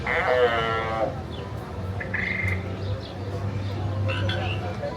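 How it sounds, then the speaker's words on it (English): Interactive frog sounds at King Harold's Swamp Symphony, a swamp-themed kids' play area at Universal Studios Florida, come as croaks and bleat-like calls over a steady low hum and crowd background, close and fairly loud throughout. "There's even King Harold's Swamp Symphony, where you can interact with frogs like this."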